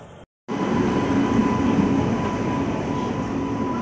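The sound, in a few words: Shatabdi Express train arriving at platform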